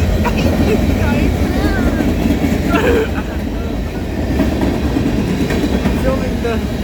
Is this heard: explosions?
no